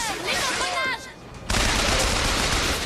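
Gunfire erupts in the video game Bioshock Infinite as an allied character shoots at enemies, a sudden loud burst of rapid shots following a stretch of game sounds and someone speaking French.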